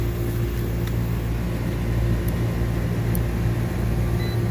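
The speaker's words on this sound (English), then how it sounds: "I have compressor action" A Manitowoc ice machine compressor running, a steady low mechanical hum with a constant tonal drone, continuous and even throughout with no talk.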